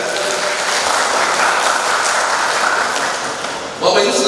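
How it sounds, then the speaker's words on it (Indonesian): Wedding guests at a church blessing ceremony clap together in a dense, loud, continuous patter that carries for several seconds before giving way to a voice near the end. "Boleh kasih tepuk tangan dulu?"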